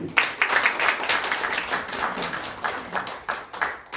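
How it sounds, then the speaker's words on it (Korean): Listeners at a forum lecture on medical issues break into applause, a bright, close round of clapping with uneven bursts and separate claps that rise and dip over a few seconds. "다시 한번 우리 박수"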